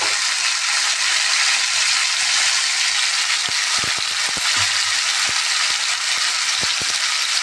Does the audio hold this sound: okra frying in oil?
yes